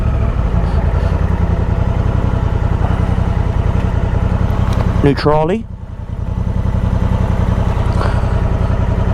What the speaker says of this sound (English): I think this might be a motorcycle.